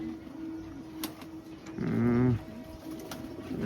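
A pigeon gives one low, throaty coo close by in a loft, with faint rustling and background hum around it.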